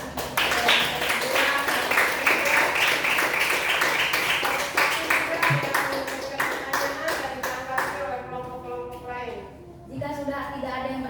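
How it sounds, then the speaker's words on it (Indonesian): An audience applauds after a group presentation, steady close clapping for several seconds before it fades out and a voice follows. "Kita kasih aplaus buat"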